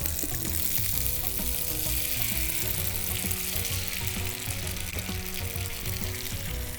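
Mushrooms sizzle loudly in a shakshuka pan, a dense, continuous frying hiss broken by light knocks and rattles as the pan is shaken, with no voices.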